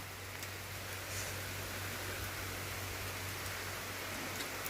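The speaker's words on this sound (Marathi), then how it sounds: "पाऊस कमी येईल म्हटलं तर पाऊस जास्त चाललेला आहे" Heavy monsoon rain pours steadily, a dense, unbroken hiss of falling water close by, with no talking.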